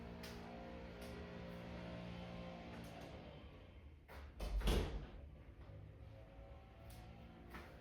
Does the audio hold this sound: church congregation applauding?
no